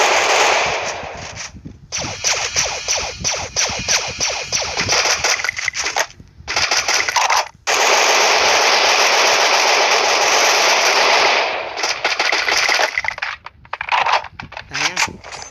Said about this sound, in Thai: ปืนยาไปยิงให้หน่อย